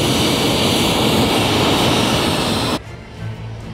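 A fighter jet takes off with a loud, steady roar of jet engine noise that fills the air, then cuts away abruptly to a much quieter, low rumbling background near the end.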